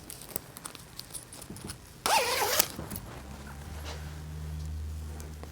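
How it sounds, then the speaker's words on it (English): A hoodie zipper on a reversible hoodie is pulled open in one quick, close rasping zip partway through, with quiet handling before it and a low steady hum afterward. "then you can go ahead and unzip the zipper."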